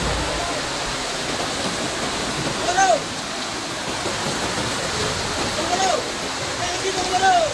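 A flooded river in Tapanuli Tengah rushes past as a loud, unbroken roar of churning water carrying large logs against a bridge, with a few faint bird chirps over the torrent.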